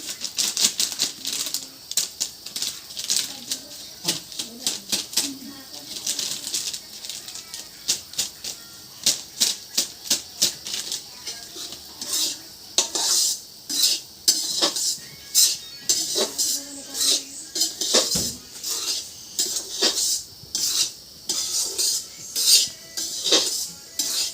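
Semolina fried with coconut in a pan gives a long run of rapid metallic scraping and tapping from a spatula against the pan, dense and uneven, sometimes pausing briefly.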